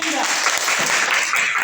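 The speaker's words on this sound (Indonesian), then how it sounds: "Berikan tepuk tangan untuk Linda." A class applauds a student named Linda at the close of a school lesson, steady dense clapping filling a short moment close by.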